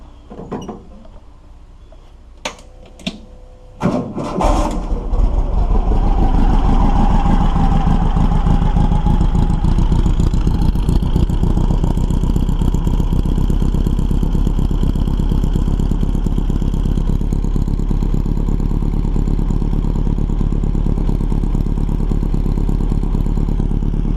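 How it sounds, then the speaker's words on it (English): Volkswagen engine fitted with a Stinger exhaust and baffle: a few clicks and cranking, then the motor catches around four seconds in and settles into a loud, steady, rumbling idle for the rest. "So now I'm going to start this thing up and we'll see what it sounds like with a baffle."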